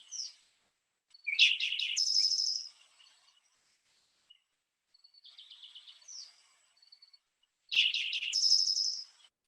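Birdsong of the so-called Beethoven bird: three clear, bright phrases of whistled notes, each ending in a high trill, separated by pauses. The middle phrase is fainter than the other two, and no voices are heard.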